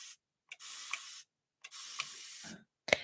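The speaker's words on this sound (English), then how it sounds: "As in you press and it holds and spray for longer period." A spray bottle gives three long continuous hisses from single presses, each lasting about a second with short pauses between, close and steady, with a small click at the end.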